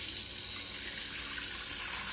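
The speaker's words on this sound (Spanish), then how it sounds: "en el fregadero llena de agua" Tap water runs steadily into a pot in a kitchen sink, a continuous close hiss and splash of filling with no voices.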